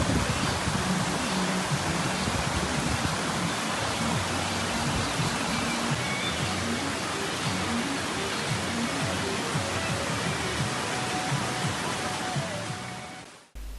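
Water falls thinly at Thooval waterfall in Nedumkandam, Idukki, as a steady, even rush of broadband noise that continues unbroken for the whole stretch before cutting off at the end.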